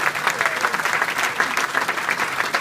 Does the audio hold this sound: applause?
yes